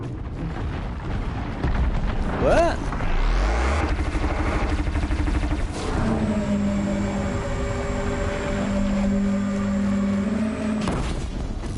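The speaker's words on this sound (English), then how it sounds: "That sound was the disc launchers." Loud mechanical whirs and sweeping tones give way to a deep boom and droning hums from disc launcher fire in Horizon Zero Dawn; a voice briefly speaks.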